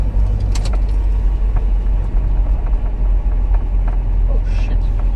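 Car coasting along a road after its engine is switched off mid-drive, a steady low rumble of tyres and road noise continuing throughout with faint cabin rattles.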